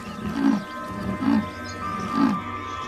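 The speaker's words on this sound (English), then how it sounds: "As Olimba enters Kamuti's territory, she makes her presence known" A leopard entering another's territory on the African savanna calls to announce itself, giving three low, rasping grunts spaced about a second apart, moderately close over a steady background hum.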